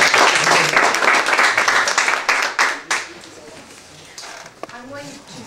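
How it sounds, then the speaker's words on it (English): Audience applause for Brittany, the third persuasive speaker of the day, a brisk clapping burst that fades over a few seconds into sparse claps and faint room noise as someone begins to speak. "warm round of applause to our third persuasive speech of the day"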